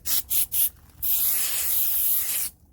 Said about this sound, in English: we're just gonna spray it like so and let it dry